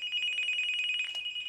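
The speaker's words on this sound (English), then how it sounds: "That's my phone." A telephone rings with a steady, rapidly trilling electronic bell, fairly quiet and alone with no talking.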